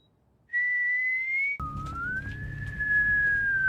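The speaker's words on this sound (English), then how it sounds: "Hwarim whistles at the baby, something that the shaman Il Guang also does in The Wailing." Whistling from the Korean horror film Exhuma, in which a shaman whistles at a baby: a clear sustained whistled tone that holds steady, then drops and slowly glides, loud and alone with a low rumble underneath.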